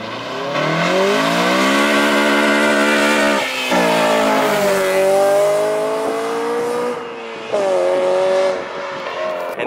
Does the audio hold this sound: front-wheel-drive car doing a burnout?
yes